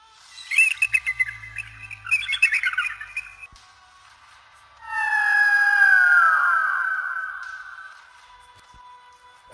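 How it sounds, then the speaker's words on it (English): Falcon calls: a burst of rapid chirps and squawks, then a long, loud, drawn-out screech that slowly fades, heard alone against a quiet background. "Falcon."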